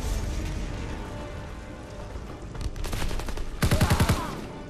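Call of Duty WW2 gunfire in the Rhine level: scattered shots build into a close, loud burst of rapid automatic fire near the end, over a low rumbling game backdrop with no talking.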